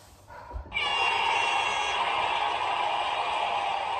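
A workout interval timer buzzer during a HIIT cardio session starts abruptly after a quiet moment and holds as a loud, steady electronic drone.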